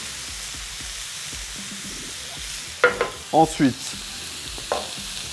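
Oyster mushrooms in olive oil frying on a hot plate over a wood-fired brazier, a soft continuous sizzle with small crackles and a few louder clattering stirs near the middle.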